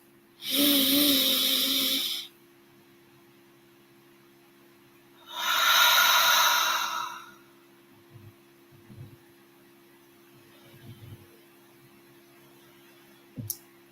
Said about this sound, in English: We'll go 2 more rounds of breathing through the nose, inhaling, feeling the cool air through the nostrils.